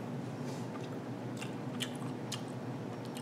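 Someone chews uncured sriracha bacon jerky, a soft, non-crunchy strip, producing steady close-up wet chewing with a few brief sharper bites over a low background hum.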